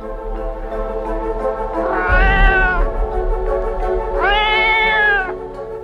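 Two long, drawn-out meows from a cat, close and loud, each rising then falling in pitch, over a steady low hum.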